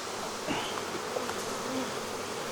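Honey bees hum steadily around an open, strong hive during summer apiary work, a dense continuous buzz close by with occasional individual bees flying past.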